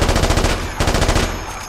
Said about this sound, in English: I'll shoot at the window. I'm shooting the wrong place.